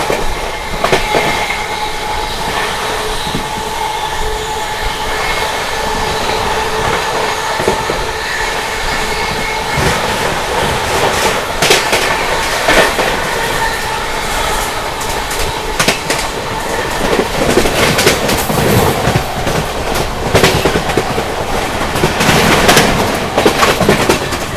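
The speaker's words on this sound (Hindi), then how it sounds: "Islampur New Delhi Magadh express overtake" Magadh Express on the Islampur–New Delhi route being overtaken near Khurja Junction, its coaches rattling past in a steady rolling clatter of wheels on rails, loud and close throughout with rising bursts of clicking and rumble.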